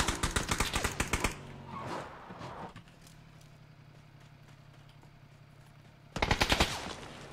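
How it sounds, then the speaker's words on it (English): Automatic gunfire in the shooter game PUBG rattles off in fast, loud bursts, then a quieter stretch of faint engine-like hum, and another sharp burst of rapid shots near the end. "Why is he shooting me through the wall?"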